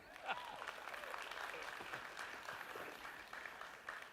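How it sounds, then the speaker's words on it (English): A church congregation applauds during a sermon: a soft, distant, continuous wash of many hands clapping together, steady throughout. "Give him a big round of applause."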